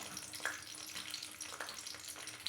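Chopped tomato, ginger and garlic sizzle faintly in a pan as a fish curry gets underway, a soft continuous crackle with a few light clinks and stirs, heard alone at a low level.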